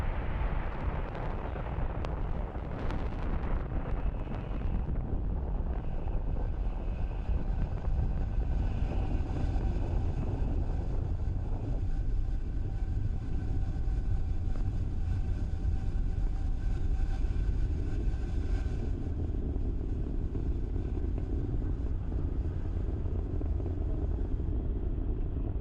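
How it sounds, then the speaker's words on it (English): A SpaceX Falcon 9 rocket lifting off from Pad 39A carrying Starlink satellites and the Blue Walker 3 payload: a heavy, sustained roaring rumble with crackling, steady and powerful throughout, no voices. "lift off of Falcon 9"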